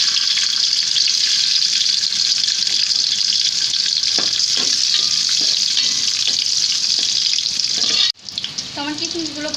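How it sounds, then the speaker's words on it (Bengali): Raisins fry in hot oil left from browning onions for a plain pulao, a loud, dense, continuous sizzle up close that cuts off abruptly near the end, followed by quieter clatter. "তো এবার আমি এই তেলেই কিশমিশ দিয়ে নেব।"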